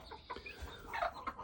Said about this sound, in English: I'm hearing a baby turkey giving a squeak that means it's sick